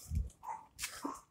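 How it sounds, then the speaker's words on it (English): A neighbouring dog barks a few times in short bursts at a distance, faint and muffled across a quiet night backdrop. "the dog next door likes to bark"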